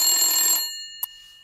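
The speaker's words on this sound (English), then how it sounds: "So I'm going to ring the phone for Liz and Awe." A telephone bell sound effect rings with a bright, metallic jangle that cuts off sharply after about half a second, followed by a single faint ding and a fading ring.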